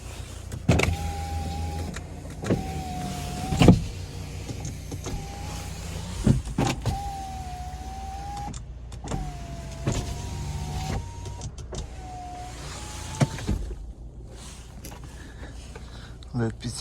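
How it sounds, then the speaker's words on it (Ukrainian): The electric side mirrors on an Audi A4 B9 fold and unfold in a series of short whirring motor runs, each ending in a soft clunk, while someone talks over them. "дзеркала у нас складаються та розкладаються"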